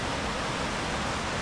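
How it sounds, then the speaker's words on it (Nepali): A river near Dhorbarahi in the Pokhara area makes a smooth, unbroken rushing hiss of flowing water, close and steady, with no voices. "यो चाहिँ हामी दोरबराईबाट अलिकति ओर बाटोतिर फर्किँदाखेरिको खोला हो।"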